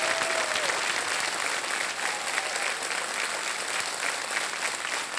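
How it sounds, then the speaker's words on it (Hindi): A studio audience on the KBC game show claps to welcome a guest. The applause is loud and sustained and carries on for about five seconds with no talk over it. "तालियों के साथ उनका हम स्वागत करते हैं।"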